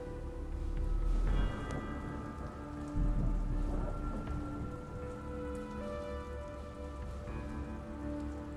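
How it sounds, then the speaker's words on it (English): Rain in the video game Dustland Delivery falls steadily with soft patter, and low rumbles of thunder roll in twice beneath a quiet tonal game soundtrack. "Oh dear, it started raining."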